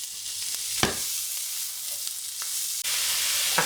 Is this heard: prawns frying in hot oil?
yes